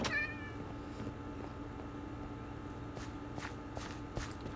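A cat meows in the Minecraft video game, a few short calls near the start over a steady game background with light footstep-like taps and occasional brief bursts.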